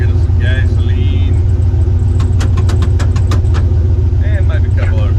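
A turbocharged Chevrolet Biscayne rumbles steadily at close range with a deep, continuous engine drone, while a few brief clinks and metallic rattles sound over it.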